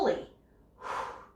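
Two breathy bursts of air during a yoga twist, a sharp gasp-like one at the start and a longer, softer exhale about a second later, close and fairly quiet.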